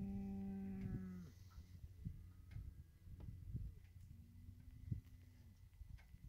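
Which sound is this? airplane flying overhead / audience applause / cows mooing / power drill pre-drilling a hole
cows mooing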